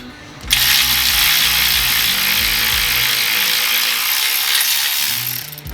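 A power tool drives an M8 self-tapping bolt into a Jeep JL fender with a steady, loud whirring grind. It starts after a brief pause and runs continuously for about five seconds, with a low mechanical rumble underneath.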